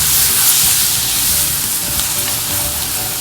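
Chilli egg masala with garam masala being stirred in a hot pan, giving a steady, close sizzle and frying hiss with soft scraping from the spoon throughout, without talk.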